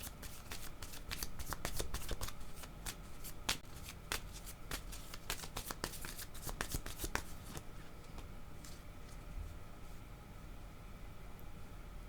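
Tarot cards cut and shuffled close by, a dense run of crisp riffling flicks for about eight seconds, then stopping and leaving a quieter steady background hiss.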